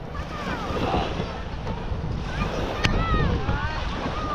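Steady broadband wash of ocean surf at Baseco Beach with wind rumbling against the microphone, continuous throughout, with faint voices in the background.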